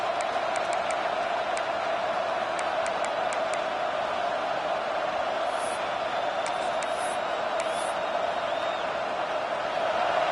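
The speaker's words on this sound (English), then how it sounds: "It's early, but this crowd is fired up. Listen to this noise here." A large stadium crowd in a college football video game (NCAA CFB 26) roars steadily and loudly throughout, a dense unbroken wall of cheering with scattered faint whistles above it.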